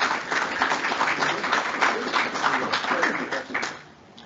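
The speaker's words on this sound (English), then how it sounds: "Another round of applause." An audience at the close of a university meeting about monitoring the night sky breaks into sustained applause, a dense wash of many hands clapping that holds steady and then fades out near the end.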